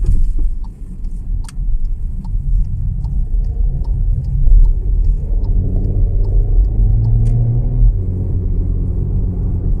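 A car drives along Syumbike Avenue, a city street, with a steady low engine and road rumble throughout and faint ticking above it.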